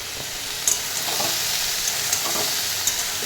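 Onions sizzle steadily in hot oil in a pan, with a constant frying hiss, occasional crackles and the light scrape of stirring, heard close and without talk.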